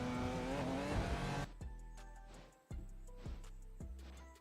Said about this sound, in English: They're asking why they hear cars.